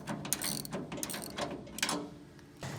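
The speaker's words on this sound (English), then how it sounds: "The chain should pull out fairly easily." A Loyal 23-bushel spreader's apron chain is pulled out over freely spinning sprockets, giving faint, irregular metallic clanks and rattles in uneven bursts throughout.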